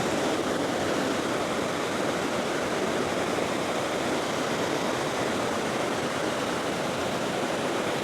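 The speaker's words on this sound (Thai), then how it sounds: "เป็นน้ำตกที่ไหลผ่านแผ่นหินแล้วก็ลาดเอียงยาว สู่แอ่งน้ำ" A waterfall at Mae Wa National Park slides over a long sloping rock slab into a pool, giving a steady, dense rush of falling water that stays even and unbroken throughout.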